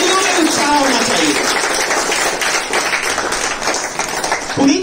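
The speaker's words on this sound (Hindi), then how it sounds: "तालियों में उत्साह होना चाहिए।" Audience applause at a large public gathering, a dense burst of clapping that fills the clip and gradually thins out, mixed with crowd noise and some voices.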